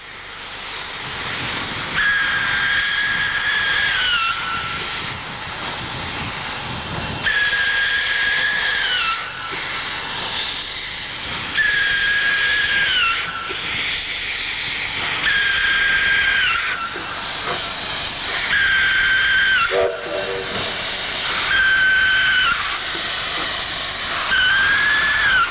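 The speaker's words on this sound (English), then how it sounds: "A few minutes later, 707 departs, huffing and wheezing like some bronchial monster." Steam locomotive 707 pulling away, loud hissing steam running throughout with repeated whistle-like tones recurring about every four seconds, close and continuous with no talk.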